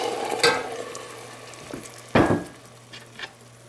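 Tomatoes tipped into a pan of well-caramelized onions, two sharp sizzling bursts with stirring scrapes between them, close and fairly loud, then the frying settles to a quieter crackle.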